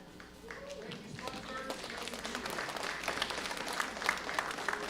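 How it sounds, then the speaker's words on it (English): Crowd applause at Ontario's Best Butter Tart Festival best-in-show judging, a steady wash of clapping that builds slightly, with a voice speaking over it. "keep that round of applause going for all of our volunteers"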